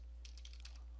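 A short burst of quick, light keystrokes on a computer keyboard, several taps in a row, close and fairly quiet, typing a command during Windows 10 repair.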